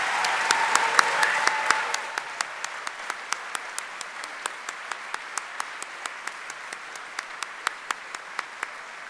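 A warm round of applause from the audience at a graduation ceremony, dense at first and then thinning to a steady run of scattered, separate claps that continue alone for several seconds.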